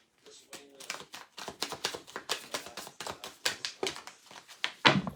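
Rapid, crisp riffling and tapping of tarot cards in quick bursts, close and moderately quiet, as the deck is shuffled.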